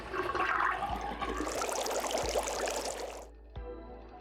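Water gurgling and rushing as a sink drains in the puzzle game Zero Escape: Zero Time Dilemma, a steady loud swirl lasting about three seconds before cutting off, then a brief splash.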